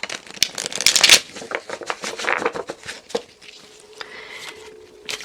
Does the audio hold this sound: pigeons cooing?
no